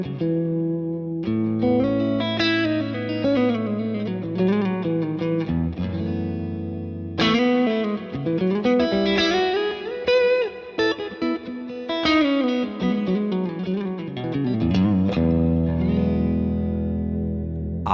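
Electric guitar played through a Fractal modeler on a worship-style preset with lush reverb, sustained chords and melodic lines ringing out and blooming into long washy tails, with brief pauses between phrases and no talking.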